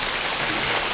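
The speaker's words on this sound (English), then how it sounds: "rain's picking up, so it might be a closer one" Heavy rain falls steadily during a thunderstorm in Deal, Kent, a dense, close, even hiss of rainfall with no breaks.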